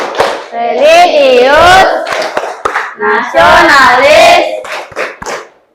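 A school class performs the Tepuk PPK clapping rhythm, loud group chanting punctuated by crisp bursts of hand claps between the spoken lines, close and energetic.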